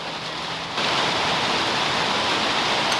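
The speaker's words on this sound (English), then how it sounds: "You know it's raining. You hear it?" Heavy rain pours down in a steady, dense hiss that swells louder after a moment and holds without pause.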